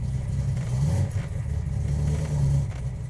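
Engine of a one-of-one Plymouth 'Cuda convertible with a three-speed manual, accelerating in first gear, a deep steady rumble with a slight swell in revs, heard from inside the car with no talking.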